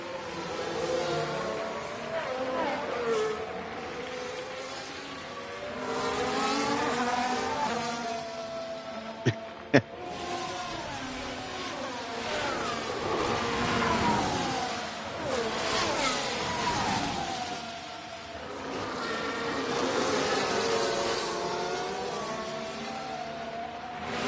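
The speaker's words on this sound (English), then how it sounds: "I think the engine is suddenly clipping there." A race car engine in the Motorsport Manager game, suffering an ERS fault, rises and falls in repeated revving sweeps with brief cut-outs, plus two sharp clicks midway, alone and fairly loud.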